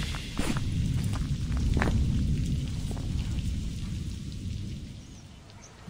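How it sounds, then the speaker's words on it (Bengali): Heavy rain pours down in a dense, steady roar while thunder rumbles low underneath, a continuous stormy wash in a horror story. "ঝমঝম করে বৃষ্টি নেমে আসে।"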